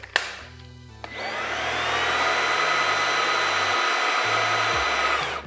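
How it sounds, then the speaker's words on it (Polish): A Xiaomi Mi Vacuum Cleaner G11 cordless vacuum with a spinning brush starts after a few clicks, then runs at a steady high whine and roar before cutting off. "Ta szczotka nam się wtedy kręci w momencie, kiedy podłączymy ją do odkurzacza."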